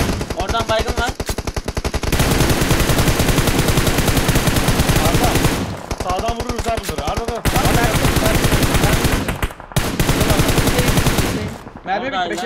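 Rapid automatic gunfire rattles in a shooter video game, loud and nearly continuous in long bursts with brief gaps between volleys, while players talk over the shooting.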